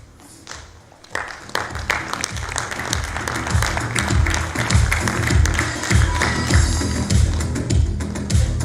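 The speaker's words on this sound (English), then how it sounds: "And a huge round of applause once again." Audience applause for award winners at a UAE CIO awards ceremony, dense sustained clapping that swells after a brief quieter start and stays loud and steady throughout.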